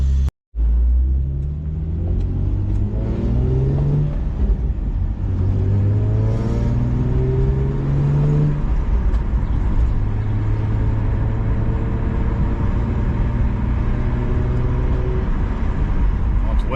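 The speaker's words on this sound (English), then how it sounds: "we are going to give it her first ride down the road, see what's up with the steering wheel" An Infiniti G35 drives down a road on a test run after an in-house alignment, its engine rumbling and revving through rising gear pulls, steady and close from inside the cabin, with brief voices over it.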